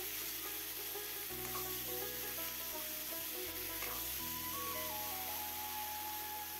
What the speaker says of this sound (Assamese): আৰু কিছু সময় এনেকৈ ভাজি ল'লোঁ গোটেইখিনি।